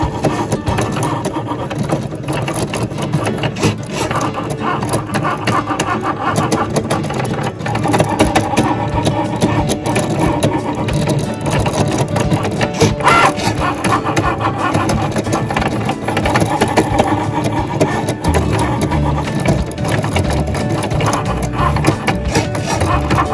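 A Cricut Maker cutting machine runs steadily with a continuous mechanical whir and buzz, its motor and carriage humming loudly throughout with no voices over it.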